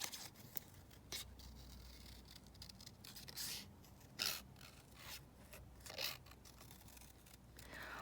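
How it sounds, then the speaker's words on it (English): Scissors snipping out a paper butterfly, quiet close-up rasping cuts coming in short irregular bursts with small pauses between strokes. "let's just cut this butterfly out."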